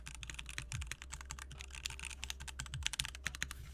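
Rapid clicking of mechanical keyboard switches being typed on, a steady busy patter of keystrokes close up with no voices.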